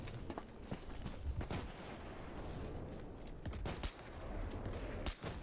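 Rapid video game gunfire rattles in busy bursts, dense sharp cracks and popping shots layered over a constant rumbling battle din, moderately loud throughout.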